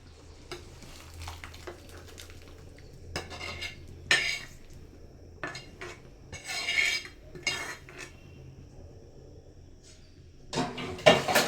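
A spoon or ladle stirs gojju into bisibele bath in a pot over a low gas flame, making irregular bursts of scraping and metallic clatter with soft sizzling and quiet gaps between.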